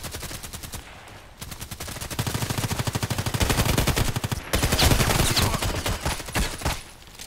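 Automatic gunfire in the online shooter Contract Wars, rapid bursts of close, loud shots in a fast rhythm, with a short pause and then a louder sustained stretch of firing, no voices.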